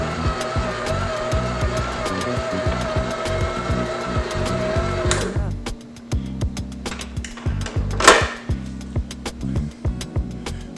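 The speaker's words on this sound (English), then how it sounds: "our dough has been mixing for 8 minutes" A stand mixer kneading bread roll dough, its motor whirring steadily with a rhythmic knocking thump, then shifting to a rougher, uneven churning partway through, close and loud with no talking.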